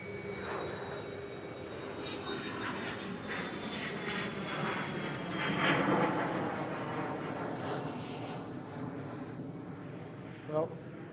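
Fixed-wing aircraft climbing away after a practice touch-and-go at Liverpool Airport, its engine drone rising and fading over several seconds, with voices heard beneath it.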